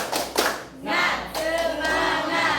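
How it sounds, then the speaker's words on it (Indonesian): A classroom group performs a rhythmic spirit clap (tepuk semangat), bursts of hand claps in patterned groups with brief pauses, fairly close and moderately loud, with voices chanting along in places. "Tepuk semangat."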